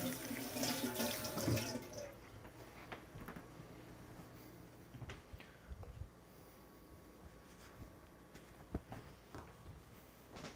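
Tap water runs into a sink for about two seconds while shellfish are washed, then stops, leaving faint clinks and handling sounds.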